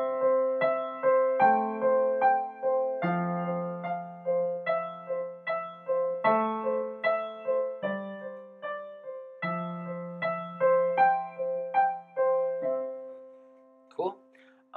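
A right-hand piano fill pattern played solo, with bright chords and runs rolling in a steady rhythm over sustained lower notes, close and clear, with no talking.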